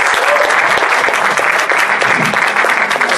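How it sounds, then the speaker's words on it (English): Loud, dense applause from an amateur-hour comedy audience at a furry convention, steady and sustained throughout with no pauses. "Another round of applause!"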